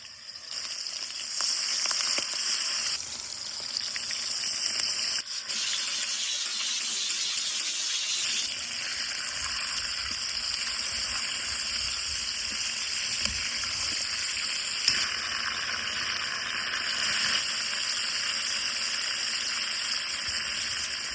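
Chicken pieces coated with salt and turmeric fry in hot oil in a pan, giving a steady, close sizzle with shifting intensity and a few crackles throughout, with no voices.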